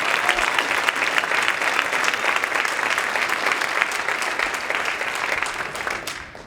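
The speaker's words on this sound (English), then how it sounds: "Big round of applause for Lydia Mega." Sustained audience applause at a high school jazz band dinner dance, dense steady clapping from a crowd for several seconds, fairly loud and fading slightly at the end, with no talking over it.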